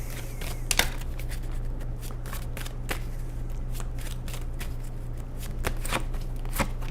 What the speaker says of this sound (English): Let's pull the other two cards.